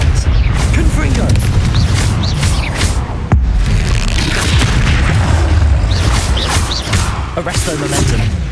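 Confringo blasting curses burst in Hogwarts Legacy combat, repeated heavy booms and thuds layered with whooshing spell effects and shouted incantations, loud and dense throughout.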